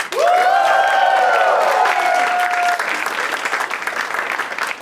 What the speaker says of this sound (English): please give a huge round of applause for my head writer